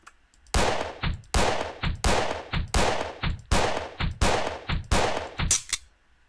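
Pistol shots in Space Station 14, a loud series of about seven sharp, evenly spaced cracks fired in quick succession, each with a short echoing tail, with no other sound.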